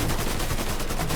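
Rapid automatic gunfire in the Mafia III video game, a dense unbroken burst of shots, loud and close.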